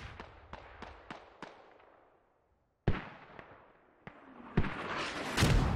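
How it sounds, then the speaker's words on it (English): Mortar fire in the video game Squad, a series of sharp distant thumps in quick rhythm, then louder nearer blasts and rumbling explosions closing in, with no talk over them. "Oh, the mortars are so good!"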